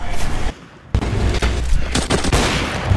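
Shotgun fire in an online video game match, loud sharp blasts with a few heavy booms and a short quiet gap, packed closely over a few seconds.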